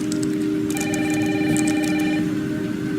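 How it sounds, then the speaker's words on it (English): A telephone rings indoors with a loud, steady electronic trill that starts partway in and holds for over a second, while heavy rain hisses continuously in the background. "Mom, phone."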